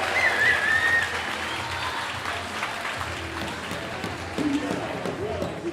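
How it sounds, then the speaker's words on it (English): Crowd at a women's elite parkour competition cheering and applauding after an athlete's run, a broad roar of clapping and shouts with a commentator talking over it. "Listen to that crowd."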